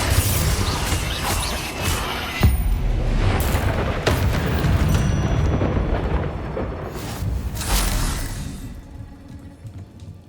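Confringo fire-spell blasts from the game Hogwarts Legacy, with dense booming impacts and rumbling bursts repeating over a loud, continuous combat soundscape.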